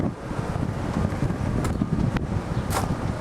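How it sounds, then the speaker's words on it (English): Gusty outdoor wind buffets the microphone in a continuous rumbling roar beside a tractor and a 1931 Ford Model A pickup, loud and unbroken with no talking. "A little windy out."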